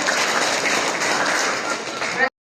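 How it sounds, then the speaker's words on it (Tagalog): Loud, dense applause from a church congregation during a Sunday message, a steady wash of many hands clapping alone for about two seconds before cutting off abruptly. "Malakas na palakpak po sa ating buhay ng Diyos"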